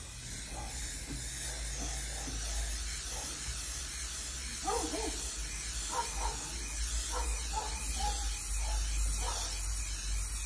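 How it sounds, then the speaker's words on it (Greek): Silicone spray hisses from an aerosol can onto a car seat belt on a historic car, a continuous close hiss lasting several seconds over low background rumble, with faint sounds of handling. "Και το ίδιο πράγμα το ξανακάνουμε ψεκάζοντας τη ζώνη από την άλλη μεριά"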